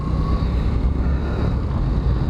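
Heavy wind buffeting roars over a low motorcycle engine hum, a constant rushing noise from riding at speed, picked up by the external microphone of a Firefly 8 SE camera.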